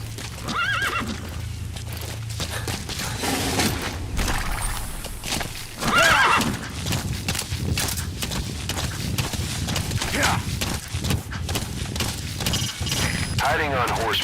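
A horse in the video game Metal Gear Solid V snorts and whinnies while its hooves clip-clop steadily, close and fairly loud, with game voices and other sounds layered over it.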